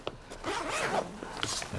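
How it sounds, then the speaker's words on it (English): A zipper is drawn open along the main compartment of an Under Armour Storm Contender backpack in one continuous close rasp, lasting under two seconds. "Then we open up the main bag."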